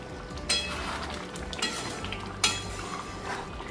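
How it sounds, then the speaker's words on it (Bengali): Spices being stirred and fried in a pan for aloo dum, a soft continuous sizzle broken by three sharp metallic scrapes and clinks of a utensil against the pan, with no talking. "শুধু মশলা কষিয়ে নাড়াচাড়া করলে ব্যাস"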